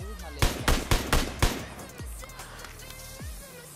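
An SKS rifle fires in a battle royale game at a military base: four sharp, loud shots in quick succession, followed by quieter game sounds and a couple of distant thuds.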